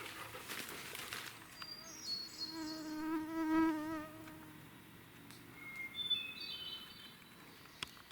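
A close marsh mosquito whine buzzes and wavers in pitch, rising and fading against a faint outdoor background with a few distant high chirps.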